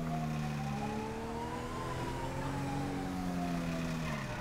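A wailing ambulance siren in the police game mod LSPDFR rises and falls steadily over a constant engine rumble, sounding fairly close and continuous throughout.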